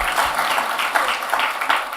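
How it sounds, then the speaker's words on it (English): An audience breaks into applause for Lily, a dense wash of clapping with small swells, fairly loud and continuing steadily through the moment. "Yes, we'll clap for Lily."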